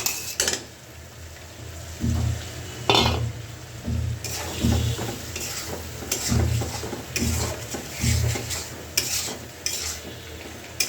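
Potatoes drop into spices frying in a pan, followed by stirring: spoon scrapes and clinks against the pan come in rhythmic bursts over a soft background sizzle, close up with no voices.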